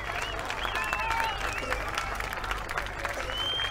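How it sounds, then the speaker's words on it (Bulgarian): Steady applause from an audience fills the whole stretch, dense and continuous clapping with a few faint voices and whistles mixed in. "Горещи аплодисменти и благодарности за това великолепно преживяване"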